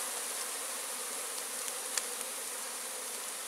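Wild bees drone at a tree-hollow hive in the forest, a dense, steady buzz of many insects sustained throughout, fairly faint and with no voices.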